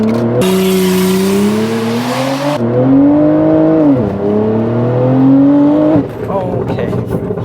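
A modified 800 whp BMW M340 (G20) with a turbo swap launches hard from launch control at 3,500 RPM: a loud, close engine roar climbs through rising revs with shifts, under an intense whooshing hiss.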